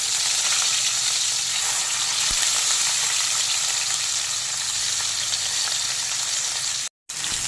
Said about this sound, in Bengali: তেল গরম হয়ে গেছে বেলে মাছগুলো ফেলে দেবো